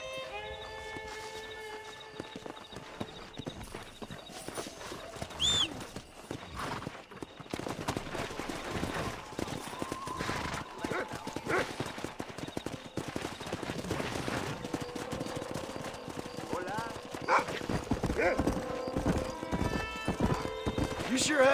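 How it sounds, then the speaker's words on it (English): Wild horses galloping near a ranch in the video game Red Dead Redemption: steady clip-clop of hooves with occasional neighs and whinnies, mixed with game music and character dialogue, plus scattered gunshot-like cracks. "That ranch hand said there's a pack of wild horses nearby."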